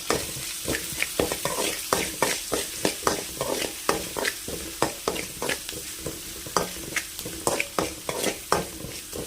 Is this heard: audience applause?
no